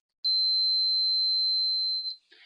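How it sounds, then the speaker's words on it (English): A multimeter in continuity mode gives one clean, high-pitched electronic beep lasting about two seconds when its two test leads touch, followed by a faint rustle. "if I take the 2 leads here on my meter and I put them together, you probably will hear a beep"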